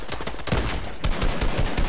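Rapid, loud gunfire in an arena video game, with dense bursts of shots rattling close up and without pause for about two seconds.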